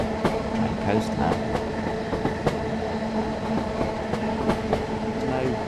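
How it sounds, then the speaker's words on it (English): A train coasts in Train Sim World 5, with a continuous low rolling rumble, steady wheel hum and scattered rail clicks, close and even throughout. "I'm just letting the train coast now."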